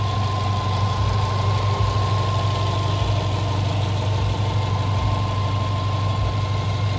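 A Subaru Impreza 2.0 i R with a boxer engine idles steadily, a smooth low hum with a faint whine and no pauses, heard close and alone.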